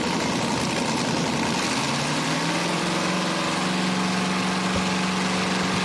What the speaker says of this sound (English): Richard Lawson Jr. out of Brookville, Ohio, a 70s vintage front-engine dragster with a little coupe body on it.